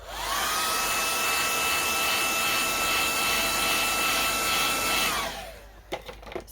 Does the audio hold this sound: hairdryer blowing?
yes